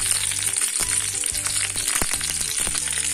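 Green chillies frying in about three tablespoons of hot oil for hotel-style Andhra ginger chutney give a steady, dense sizzle with a few brief stirring clicks, close and continuous, with no talking.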